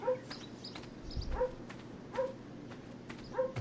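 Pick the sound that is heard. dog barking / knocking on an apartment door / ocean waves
dog barking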